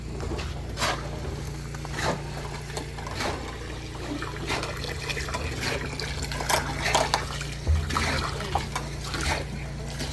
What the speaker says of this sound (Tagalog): Malakas yung tubig namin.